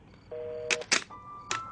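A phone call being hung up: short electronic beep tones and a couple of handset clicks and thunks, faint and brief, no voices.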